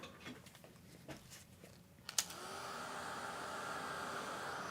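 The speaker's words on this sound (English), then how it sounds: "I'm going to take the blow dryer and dry just a little bit." A blow dryer switches on after a few soft clicks and roars steadily, close and loud, drying a watercolor painting of an abstract landscape, with no talk.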